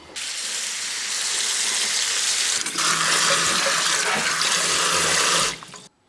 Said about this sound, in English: The first thing I'm going to do is take the peppers and wash them.